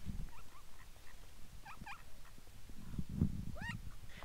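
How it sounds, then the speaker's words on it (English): Ducks at a campsite begging for food, with scattered short quacking and gobbling calls in a few bursts over quiet open-air background, fairly close. "with the ducks, wanting some food."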